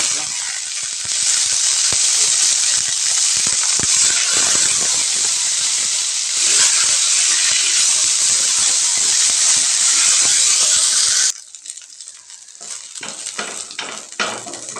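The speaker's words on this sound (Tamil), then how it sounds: "கீரையை போட்டு நல்லா வதக்கி விட்டுக்கலாங்க" Mudakathan keerai greens sauté with onions and dried red chillies in a pan, a loud, close, steady sizzling hiss that suddenly drops to quieter crackling and stirring near the end.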